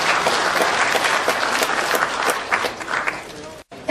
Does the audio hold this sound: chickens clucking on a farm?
no